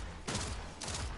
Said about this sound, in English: I'm going to use this new exotic pulse rifle from Beyond Light